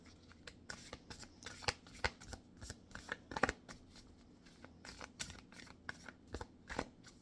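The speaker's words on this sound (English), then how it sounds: "Third shuffle." Tarot cards are shuffled near the microphone, a run of quick flicking riffles and soft taps in uneven bursts, with no talking.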